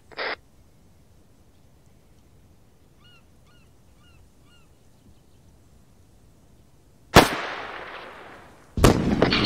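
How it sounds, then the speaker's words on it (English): Rocket launcher fire in the video game ARMA 3: after a long near-silent stretch with a brief sound at the start, two loud, sharp blasts crack out near the end, each with a rough rumbling tail. "I'm gonna fire a rocket at them. I'm firing a rocket."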